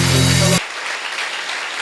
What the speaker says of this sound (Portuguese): Vamos aplaudir o nosso Salvador